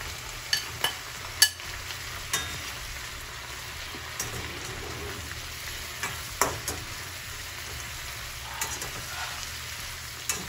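Chicken fries in a pan with ginger, onion and green pepper for chilli chicken, a soft steady sizzle broken by scattered sharp clinks and scrapes as it is stirred.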